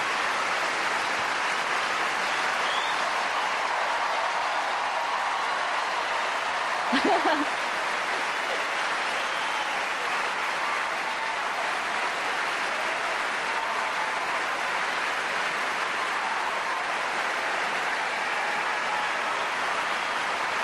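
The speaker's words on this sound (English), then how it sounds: "Crowd very appreciative of the way that she played today." Sustained applause from a large crowd at a Wimbledon tennis semifinal, a dense, even wash of clapping that continues steadily for the whole stretch with a brief louder burst partway through.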